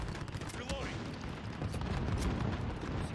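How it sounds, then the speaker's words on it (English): Gunfire from the video game Call of Duty Modern Warfare, a dense, continuous wash of battle noise and shots with no single crisp report standing out, at steady moderate loudness throughout. "I believe that I have just hit the longest gunshot in Call of Duty history."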